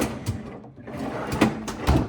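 A large freezer drawer in a cottage fridge freezer sliding open or shut, giving a few soft thuds and rolling scrapes at close range.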